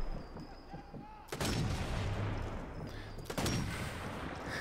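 Two booming gunshots ring out in the video game Sniper Elite 4, each a sharp crack followed by a long rumbling tail, about two seconds apart, with quiet ambient game sound between.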